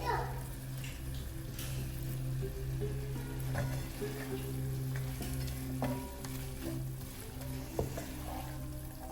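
Chicken curry bubbles and sizzles in the pan as curry leaves go in, a continuous close frying hiss with occasional stirring scrapes and small pops throughout.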